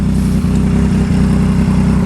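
A 2020 Triumph Street Triple 765RS with a titanium exhaust runs loud and close, holding a fast, throbbing engine note with slight surges and no talk over it.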